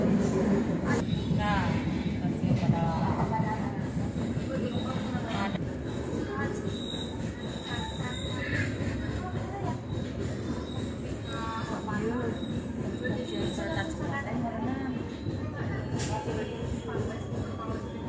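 A train rolls into Padalarang station on the Sukabumi–Bandung line, with rumbling wheels, clatter and occasional squeals, while voices talk continuously nearby throughout.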